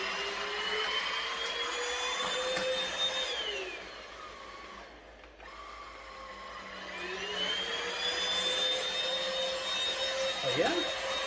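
A cordless stick vacuum cleaner runs with a steady high whine that dips lower for a few seconds in the middle and then climbs back up, as if switching power modes. It sounds close and loud, with no talk.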